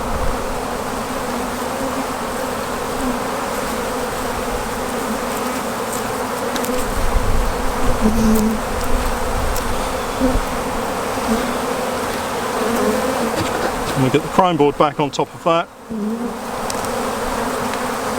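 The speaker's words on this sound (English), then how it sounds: "Just move the bees away from the top bars so that I can put the pollen substitute back on." Dense, steady buzzing of many honey bees from an open hive as a beekeeper works over the top bars, a continuous close drone under faint handling noises, with a brief voice near the end.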